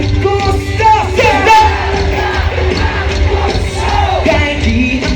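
A festival crowd at the Aurora Music Festival shouts and yells along with a singer, a loud, dense mass of voices with whoops rising over a steady low musical backing throughout.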